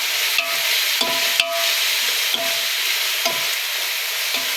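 Chicken biryani base frying and being stirred in a pot, a steady sizzle with repeated scraping stir strokes and sharp clinks of the spoon against the metal, close and continuous with no talking.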